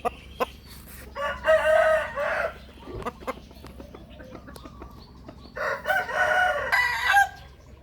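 Two loud fighting rooster crows ring out close by, separated by a few seconds, with scattered clucks and rustling between them.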